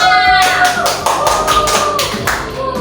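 Students in a classroom clap together for a classmate, fairly loud rhythmic group clapping in roughly regular beats, with music or a tone sounding underneath.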